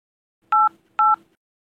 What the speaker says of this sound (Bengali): আমি ডাক্তারকে ফোন করছি।